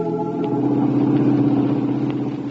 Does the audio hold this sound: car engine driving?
yes